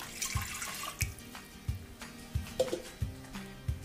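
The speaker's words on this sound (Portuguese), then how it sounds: "Agora vamos colocar a água" Water poured for a strawberry gelatin dessert, 400 ml of it, a soft splashing trickle with small irregular thumps and clinks of the container, fairly quiet.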